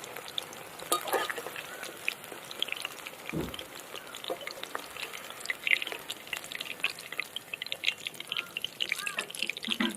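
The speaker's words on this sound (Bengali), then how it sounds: "এই পকোড়াগুলোও কিন্তু একদম ভাজা হয়ে গেল" Chicken pakoras made from chicken mince fry in hot oil as a close, steady crackle of fine sizzling pops, with a few brief clinks and small stirring noises along the way.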